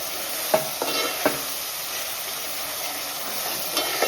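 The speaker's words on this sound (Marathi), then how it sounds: "हिरवं वाटण टाकू त्याच्यात पण अद्रक असून मिरची कोथिंबीर हिरो आहे तो पण मस्त तेलामध्ये परतून घेऊ" Green paste of ginger, chili and coriander fried in oil and stirred, a continuous bright sizzle with a few sharp spoon taps early on and near the end, no talking.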